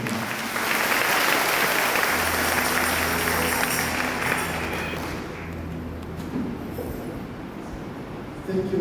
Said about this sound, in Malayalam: അതുകൊണ്ട് അവർക്ക് ഒരു വലിയ കൈയടിയോടെ